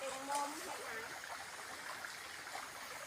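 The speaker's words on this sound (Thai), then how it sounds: "มีน้ำตกพร้อม" A small waterfall stream in a vegetable garden trickles and splashes steadily, faint and continuous, with a voice briefly heard over the running water.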